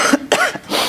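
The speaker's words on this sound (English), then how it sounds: "I've got to clear my throat." A person coughs and clears their throat during a public board meeting, a close, loud burst of rough hacks and short throaty rasps with no speech.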